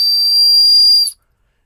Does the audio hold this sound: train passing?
no